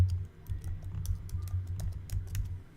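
Typing on a computer keyboard while renaming a layer to background, a steady run of close, crisp key clicks with no talking.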